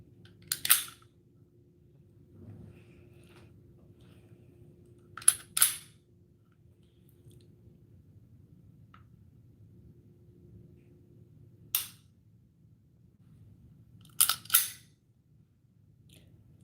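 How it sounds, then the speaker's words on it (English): A Sig 365 handgun being dry-fired, with the trigger pulled and held and then the slide racked: sharp, close metallic clicks and snaps in small clusters, separated by long quiet gaps over a low room hum. "the reason why I am pulling the trigger, holding it to the rear, and then racking my slide is I'm simulating that the gun's actually firing"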